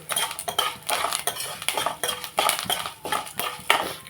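A spoon stirs idli chutney in a metal pot, Hyderabad hotel style, producing loud, rhythmic scraping and clinking strokes repeated about every half second, close up.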